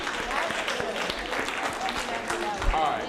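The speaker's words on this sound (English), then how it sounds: "Round of applause." An audience at a social justice teaching event breaks into applause, a dense patter of clapping that runs throughout with some voices mixed in.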